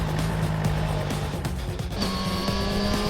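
A Suzuki GSX-R1000R sportbike engine runs in a loud, steady, buzzing drone with shifting pitch and dense mechanical noise throughout, and no voices.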